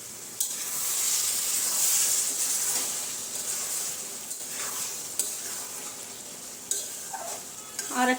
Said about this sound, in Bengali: ফাঁকে ফাঁকে একটু নেড়ে দেই